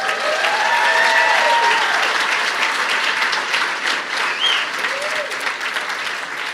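A stand-up comedy audience claps loudly for educators, sustained, dense applause from a large crowd that holds strong throughout before easing slightly near the end.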